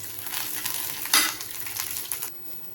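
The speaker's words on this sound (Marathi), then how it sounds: "लसूण पण चांगला असा मिरचीबरोबर भाजून घ्यायचा" Garlic and green chillies roast in hot oil for a spicy Maharashtrian chilli relish, giving a steady close sizzle with a brief louder stir or scrape near the middle, then quieter frying toward the end.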